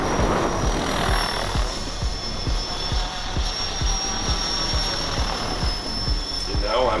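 A small radio-controlled helicopter's rotor chops steadily at close range, a fast, even whirring beat with a high engine whine running throughout.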